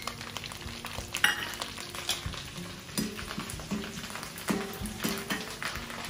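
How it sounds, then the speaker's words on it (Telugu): Ginger and curry leaves fry in a pan with a steady, crackling sizzle, broken by a few louder spatters and scraping stirs close by, with no talking. "బాగా వేగాలి అల్లము అప్పుడు మనకి టేస్ట్ బాగుంటుంది అలాగే కొంచెం కరివేపాకు కూడా వేసుకుందాం"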